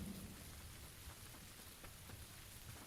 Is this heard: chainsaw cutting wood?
no